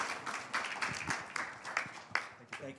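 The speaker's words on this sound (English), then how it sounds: "Please, a warm round of applause for our speakers" Scattered, faint clapping from a small audience after a panel on financing the energy transition, individual claps distinct and uneven with some voices underneath.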